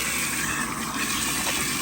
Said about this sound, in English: This was just filter floss, which I have a whole box full of. And I want to just wring it out.